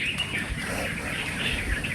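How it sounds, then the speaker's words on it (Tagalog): Many birds chirp steadily at an old cemetery with crumbling adobe arches, a continuous dense twittering over a low outdoor rumble, with no talking. "Daming ibon."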